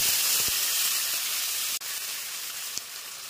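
Onion paste sizzling in hot oil for a Katla fish rezala: a steady, bright frying hiss that holds throughout, with one brief dip partway through and a faint crackle near the end, no voices.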